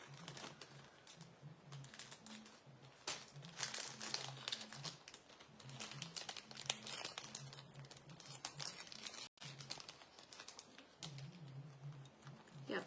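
A brand new plastic package of small stencils for painting cutting board ornaments gets opened, giving a steady, close stream of crinkling and crackling with sharp snaps and no talking.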